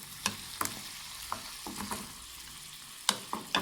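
Chopped dates are stirred into a hot pickle mixture in a pan. Irregular scraping strokes come close and fairly quiet over a faint sizzle, with no voices.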